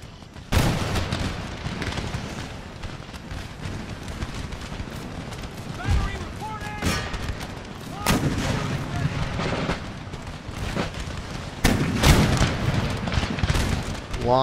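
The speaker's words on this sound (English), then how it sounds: "And here come the cannons." Cannon artillery in Empire: Total War booms in repeated heavy volleys, loud and close, over continuous battlefield noise of musketry and shouting troops.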